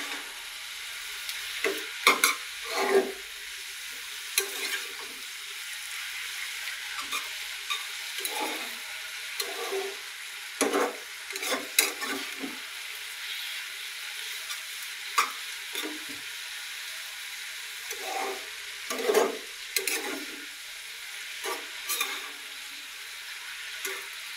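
Red amaranth greens with salt sauté in a pan, with a soft constant sizzle and a spatula scraping and knocking in irregular bursts of stirring, close by and with no talking.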